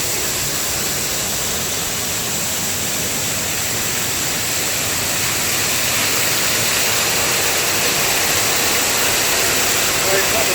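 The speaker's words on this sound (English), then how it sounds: "we're going to walk in behind the waterfall" Waterfall at Yuen Long Town Park heard from behind the falling water, a steady, loud broadband rush that stays constant throughout with no distinct events.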